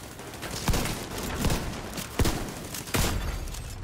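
Gunfire in The Division 2 video game on Xbox One, four separate heavy shots spaced out over a dense, noisy background of combat sounds, with no talking.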